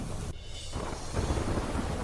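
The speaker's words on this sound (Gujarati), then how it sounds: "યાત્રાધામ પાવાગઢ ડુંગર પર ધોધમાર વરસાદથી આહલાદક નજારો સર્જાયો" Heavy downpour on Pavagadh hill, a dense, loud, steady roar of rain that dips briefly and then swells back, with wind buffeting the microphone.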